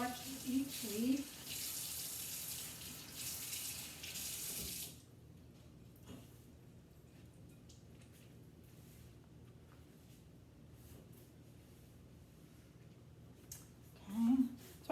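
Bok choy leaves are rinsed under running tap water into a sink for about five seconds, a loud close hiss that then stops, leaving a quiet room with faint handling noises.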